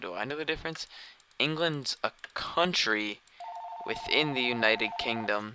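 A telephone rings with a steady electronic tone, an incoming call from a toll-free 1-800 number, sounding under continuous talk during a Minecraft live stream.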